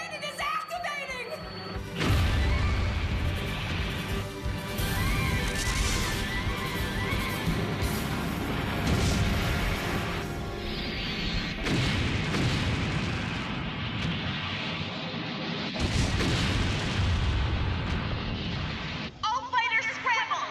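The main cannon of a giant space fortress in the Macross anime fires with a sustained, roaring blast of booming, rumbling energy, dense and loud throughout, with shifts in intensity and a brief drop near the end.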